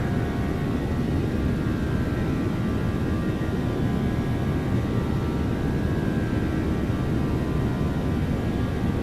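A Boeing 737 cargo plane in flight in the X-Plane 12 flight simulator gives a steady, loud broadband engine and airflow drone with a faint tonal hum, unchanging throughout with no voices.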